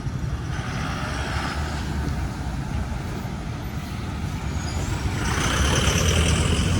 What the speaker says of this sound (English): this is the main road, and it is so crowded, guys, and the movement is so much